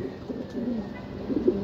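Low, soft coos from racing pigeons back from a training flight rumble faintly and repeatedly over a steady outdoor background hum.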